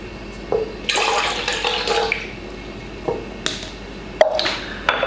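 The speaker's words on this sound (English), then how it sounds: "Put in my water." Water poured into a mixing bowl of milk and egg while preparing soft bread rolls, coming as a few short splashing bursts with brief pauses between them.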